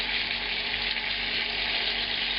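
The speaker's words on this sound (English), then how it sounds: "we're going to cook this other side almost like deep frying it in the corner of the pan, just with the residual fat that's in there" Duck breast fries in residual fat pooled in the corner of a tilted pan, giving a steady, close, dense sizzle without pause.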